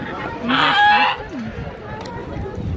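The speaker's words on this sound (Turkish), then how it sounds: "Ördek." A loud honking quack rings out briefly, followed by quieter background chatter and ambient noise.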